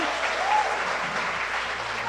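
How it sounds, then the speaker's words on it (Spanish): A church congregation applauds its worship team in a steady, dense wash of clapping that fills the room from start to finish with no pauses. "Démosle un aplauso a ese equipo de trabajo, el Dream Team"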